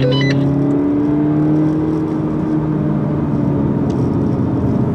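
Engine of a 2015 Seat Leon Cupra 280 while driving on the Nuerburgring Nordschleife, a steady loud drone with a sustained hum and road noise under it and a brief higher whine at the start.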